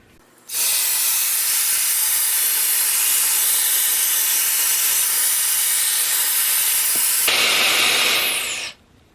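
A Shark Flexstyle hair air styler blows in one continuous loud, even airflow rush that starts abruptly, shifts in tone near the end and then cuts off.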